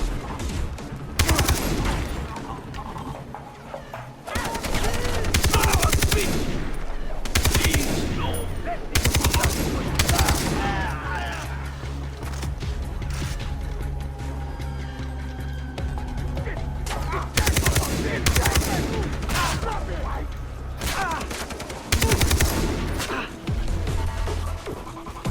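Sustained automatic gunfire from Far Cry 3 gameplay rattles in repeated bursts throughout, dense and loud, with a few heavier thuds mixed in and game voices or background chatter running underneath.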